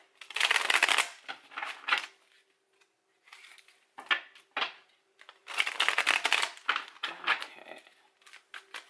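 Tarot cards shuffled by hand in bursts of brisk riffling and flicking, pausing briefly between rounds, close and clear with no talking.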